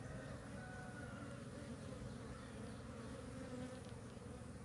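Honey bees buzzing in a dense, steady drone that stays close and loud throughout, with no pauses and no voices, while a beekeeper handles the hive with hands smeared to avoid stings.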